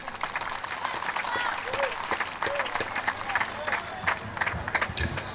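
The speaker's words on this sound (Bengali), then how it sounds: "আমরা এখন জোরে একটা হাততালি দিব।" Applause from a crowd at a school's inter-house cultural competition prize-giving ceremony, moderate clapping with a voice speaking over it and uneven bursts toward the end.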